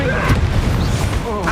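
A Confringo fire blast spell bursts in Hogwarts Legacy as a loud, close, booming explosion with a rumbling low body and crackling tail, with voice-like sounds mixed in over the brief blast.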